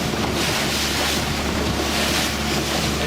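Steady broadband wash of ocean swell around a fishing boat off Fraser Island near Breaksea Spit, with heavy wind buffeting the microphone throughout and no voices.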